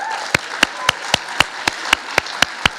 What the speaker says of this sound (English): So another round of applause for that great ensemble.